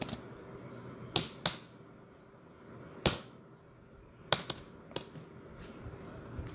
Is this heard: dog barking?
no